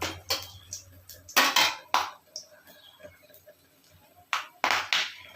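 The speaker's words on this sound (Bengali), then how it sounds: "একটু নাড়িয়ে দিচ্ছি।" A utensil stirs dried red chillies and cardamom in a cooking pan, giving irregular metallic clanks and scrapes in close, sharp bursts separated by quieter gaps.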